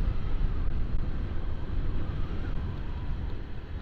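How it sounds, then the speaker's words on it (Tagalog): Strong wind blows along the Nueva Ecija–Aurora road near the Pacific coast, a steady, low rumbling roar with no gaps. "Ang lakas pala ng hangin."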